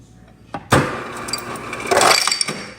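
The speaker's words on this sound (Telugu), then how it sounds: "ఇది అయితే ఐస్ ముక్కలు వచ్చేస్తాయి" A home refrigerator's ice dispenser drops ice cubes in two clattering, glassy bursts, close and fairly loud, with quiet room noise between them.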